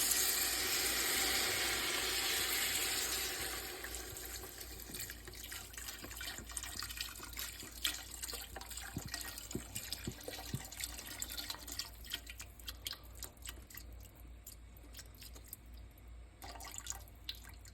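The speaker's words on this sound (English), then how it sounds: "We're going to deglaze with a quart of beef stock." Beef stock poured into a hot soup pot to deglaze it, a loud liquid rush at first that settles into bubbling and sizzling with scattered pops and drips, heard alone without talk.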